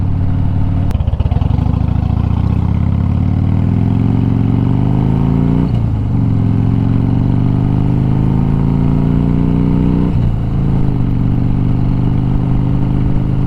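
Harley-Davidson Fat Bob motorcycle exhaust pipes rumble loudly and continuously while riding, rising in pitch through the gears with two shift breaks along the way and no talking over it.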